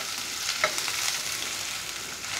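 Dry spices such as cumin, turmeric and coriander powder roasting in a pan for pressure-cooker soybean curry, with a continuous soft sizzle and a few light stirring scrapes.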